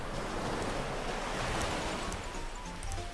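Ocean waves in Minecraft wash in a steady, soft, broadband surf roar, constant and moderately quiet throughout, with no talking.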